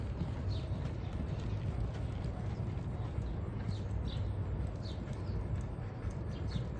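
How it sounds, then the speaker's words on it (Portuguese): Horses ridden by workers during morning training, their hooves clip-clopping in a steady, continuous rhythm against constant background noise. "Pra ficar montando cavalo pra eles, fazendo isso aí de manhã."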